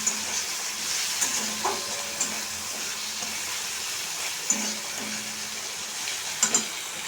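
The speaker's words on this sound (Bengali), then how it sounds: "দেখো জিরেটা ফুটছে" Cumin seeds tempering in hot oil, crackling and sizzling steadily up close with a few sharper pops and the odd utensil tap, no voices over it.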